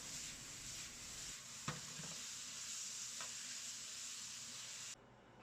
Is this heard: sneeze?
no